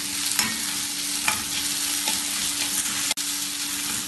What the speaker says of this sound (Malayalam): ഇതിലേക്ക് വലിപ്പം കുറഞ്ഞ ഒരു തക്കാളി ചെറുതായി മുറിച്ചത് ചേർക്കാം. ഇതിനി ഇളക്കി വഴറ്റാം.